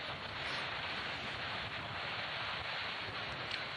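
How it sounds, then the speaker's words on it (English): Steady, roaring wind at the top of a climb during a cycling race buffets the microphone throughout, a dense broadband rush with slight gusty swells and no voices. "Wind howling at the top here."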